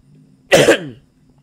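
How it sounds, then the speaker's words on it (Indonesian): A single sharp cough, close and loud, breaking a near-silence with a faint low hum behind it. "agak sedikit batuk ya"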